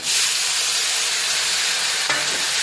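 Cabbage stir-fries in a pan with a fish head, a loud close hissing sizzle that holds steady, with a sudden burst and scrape just before the end.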